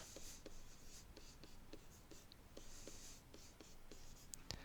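Pen or marker writing out algebra terms for a factoring lesson, a run of quiet scratchy strokes with short taps and pauses, close and soft throughout with no talking.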